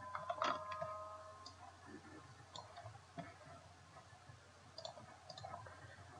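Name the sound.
computer mouse clicking while browsing a post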